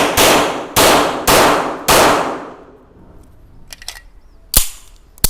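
Four loud, evenly spaced gunshots from an RIA Tac Ultra 9mm 1911 pistol fired in quick succession at a range, each with a ringing tail, then quieter clinks and metallic handling noises.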